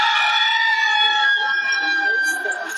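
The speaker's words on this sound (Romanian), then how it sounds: "Acum urmează cocoșul." A rooster crows in a long, drawn-out call at a holiday spot in Sicily, fairly close and clear, with no talking over it.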